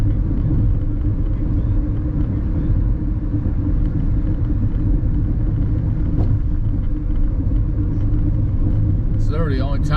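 Car coasting fast down a Colorado mountain pass at around 80 mph, a steady loud low road-and-engine rumble filling the whole stretch without letup, with a brief chirp near the end.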